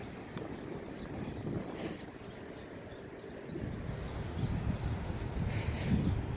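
Wind gusting outdoors during a small drone's test flight, a low rumbling buffet against the microphone that swells and eases, strengthening in the last few seconds.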